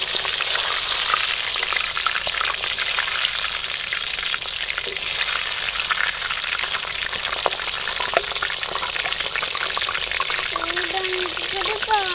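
Fish chunks deep-fry in hot oil for a village-style meen varuval as the foam dies down, a steady close sizzle with scattered bubbling pops throughout.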